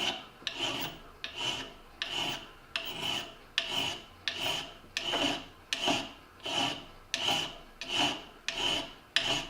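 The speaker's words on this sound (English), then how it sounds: "I'm going to grab just a mill file, and I'm going to file that off until that screw has a nice sharp edge" A mill file rasps across a screw set in a wooden block while a scratch beader is made, about a dozen even back-and-forth strokes in a steady rhythm, close and alone.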